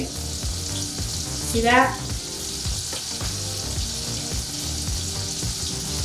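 Scallops sear in a hot pan, giving a continuous bright sizzle with a brief louder burst partway through, while a person talks over the frying.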